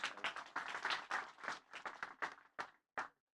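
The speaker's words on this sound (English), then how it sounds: "please give a round of applause for Ambassador Kim" Applause for Ambassador Kim at a tempeh cultural celebration: a short burst of clapping from a small audience, loud at first, then thinning to a few final claps before silence.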